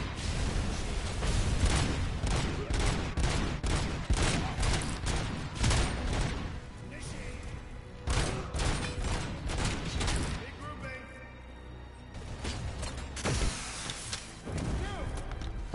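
Dense bursts of gunfire and thudding grenade explosions rattle almost without pause in a PS5 shooter game, loud and layered, with a brief lull before the firing resumes.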